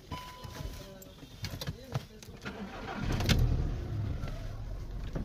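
A Volkswagen car with a suspected O2 sensor fault is heard close up. After a few seconds of quiet talk and clicks, its engine cranks, catches and runs at a steady idle to the end.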